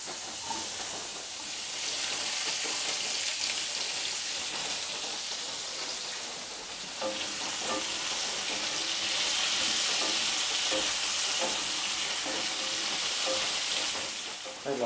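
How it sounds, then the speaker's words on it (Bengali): Papaya pieces sizzle steadily in hot oil tempered with black cumin seeds, a dense continuous frying hiss that swells slightly midway, with a few faint clicks and no talk over it. "টুকরো করে কেটে রাখা পেঁপেগুলো তেলের ওপর ছেড়ে দিলাম।"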